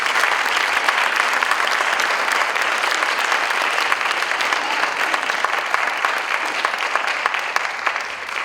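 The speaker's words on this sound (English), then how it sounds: "a big round of applause to Hall of Fame inductee, Mr. Gerald Zeman." Sustained applause from an audience at a school district sports hall of fame induction ceremony, dense clapping that stays loud and even throughout with a faint murmur of voices beneath.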